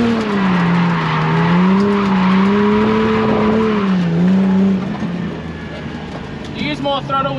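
A drifting car on the Minami jump circuit, its engine droning loudly with a wavering pitch as tires squeal, the roar easing off toward the end, heard close from inside with a voice talking over it.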